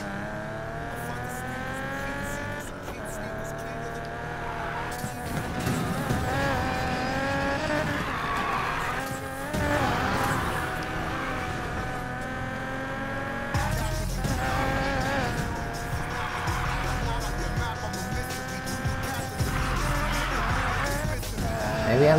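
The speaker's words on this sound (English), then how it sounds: "Maybe I'm not that bad at drifting." A race car in a video game drifts through corners, its tires squealing in long sustained screeches over a steady, high-revving engine drone, with brief lulls as it shifts and accelerates.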